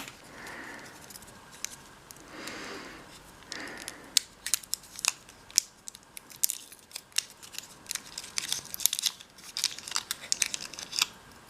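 Watercolor paint set packaging being unwrapped, with close crinkling and tearing of wrapper, sharp snips and irregular crackling pops growing busier toward the end, no talking.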